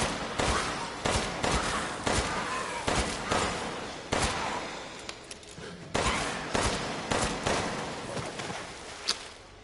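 Pistol gunshots in Resident Evil Village VR, a string of sharp, fairly quiet cracks fired at an uneven pace, each with a short decaying tail, the last shot standing out slightly louder.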